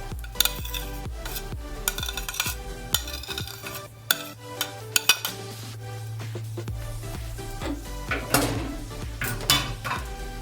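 Yellow and red bell peppers being stirred in a pan for egg roll filling, with repeated sharp clinks of a utensil against the pan over a low steady background sizzle.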